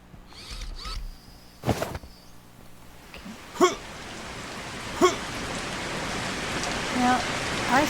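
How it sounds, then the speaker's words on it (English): Rain falls steadily in the zombie survival game Zompiercer, a dense hiss that builds gradually. Several sharp creaks and clunks and a few brief tonal blips sound over it. "I've seen this before where the rain comes down yellow"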